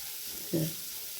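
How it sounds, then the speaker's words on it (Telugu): Green chillies and chopped ginger frying in a pan, a soft steady sizzle with a brief tonal clink partway through. "రెండు పచ్చిమిరపకాయలు అలాగే కొంచెం అల్లం తరుగు వేసుకొని వేయించుకోవాలి"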